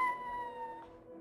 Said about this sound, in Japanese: また猫の鳴き声がして。